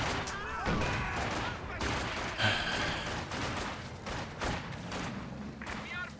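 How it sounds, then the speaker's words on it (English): Rifle grenade fired in Company of Heroes 2, a WWII strategy game, amid a dense battle soundscape of repeated sharp gunfire bursts and thuds, with a commentator talking over the action. "It's a rifle grenade."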